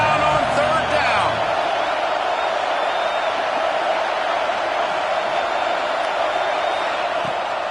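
Loud, dense roar of a college football stadium crowd during a Michigan vs Florida game, a steady wall of noise holding through a Gators third down with brief whoops and thuds early on.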